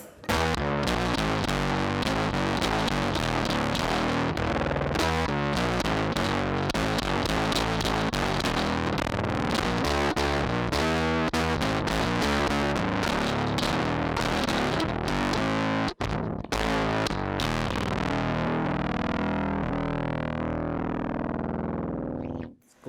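Electric guitar run through a Boss OC-5 octave pedal and a JHS fuzz, a continuous loud, dense stream of distorted, glitchy riffing with a chunky low octave, ending abruptly.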